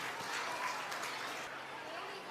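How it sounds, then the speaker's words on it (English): Audience at a school stage event clapping together, a steady, even wash of applause that carries through the whole short stretch without pauses, fairly faint and heard from within the crowd. "Give her a huge round of applause."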